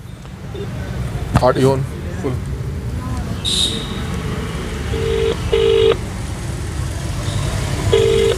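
A phone call to a call-center number rings unanswered, with short electronic ringback tones repeating in pairs under a speaker's talk.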